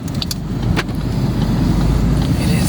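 Steady low road rumble and engine drone inside a moving car, loud and continuous, with a few faint clicks and rattles near the start.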